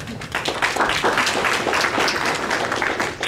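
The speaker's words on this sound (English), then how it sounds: "Have a round of applause for Isabel." A roomful of people clap together in a steady burst of applause lasting a few seconds.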